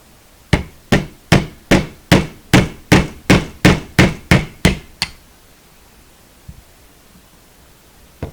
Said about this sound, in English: I'm gonna hammer it into the hole that we drilled.